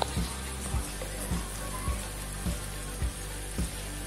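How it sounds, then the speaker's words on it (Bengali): Chicken fries in a pan on a stove with a continuous close sizzle and spatter, punctuated by soft regular low thumps about every half second. "এভাবে করে আমি এক মিনিট ভাজার পরে একটা চামচ দিয়ে অপর পিঠ উল্টে দিচ্ছি"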